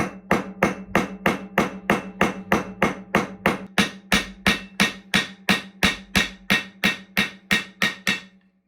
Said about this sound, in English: then I'm going to peen them off from this side